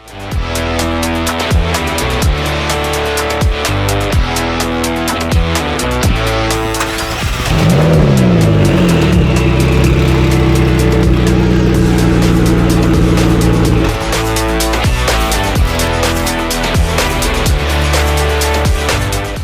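An 800 horsepower tuned car engine, the stock 641 horsepower raised, roars loud and close, its pitch shifting partway through and then holding a sustained heavy drone, with no talk.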